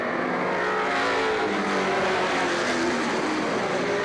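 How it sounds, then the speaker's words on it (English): Race cars running laps at Star Speedway in 1991 make a continuous, loud engine roar from a pack of cars, a dense and steady drone that blends several motors together with no distinct pauses. "So now it's McClure, Cabral, Rollins, and Gillis running in fourth"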